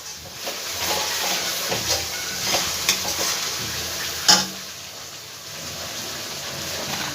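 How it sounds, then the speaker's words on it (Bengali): Spice masala frying in oil for a green banana kofta curry, a steady close sizzle broken by scraping spatula strokes and one sharp clank of utensil against the pan. "খুব ভালো করে এবার মশলাটাকে আমি ভেজে নেব"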